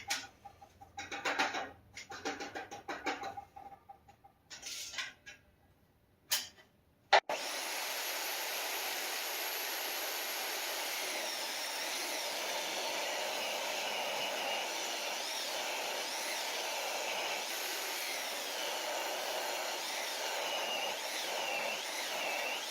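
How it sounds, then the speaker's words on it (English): Power saw ripping wooden boards lengthwise, taking an inch off each to make the sides of a library ladder; a loud, steady broadband whine runs continuously for about fifteen seconds after a few short bursts of handling and starting noise. "First thing I'm going to do is rip these boards down for the sides."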